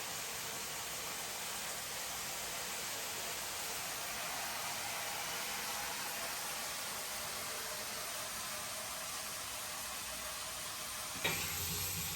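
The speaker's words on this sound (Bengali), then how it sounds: "ডাটা আর আলু দিয়ে রান্না করতেছি মাছটা, বোয়াল মাছ।" Boal fish cooking with vegetable stems and potatoes in a pan, a steady dense sizzle of frying that continues evenly throughout, with a brief stir or clatter near the end.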